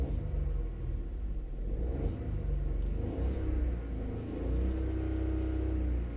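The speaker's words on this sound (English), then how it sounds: "But let me accelerate." A 2020 Volkswagen Polo 1.0 TSI petrol engine accelerating, heard from inside the car as a steady low rumbling drone that rises and swells, fairly loud and without talk.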